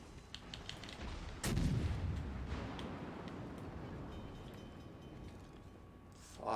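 Naval gunfire from enemy ships in World of Warships Legends: one heavy, booming shot lands mid-clip and trails into a long rumble, over a steady background of distant battle noise.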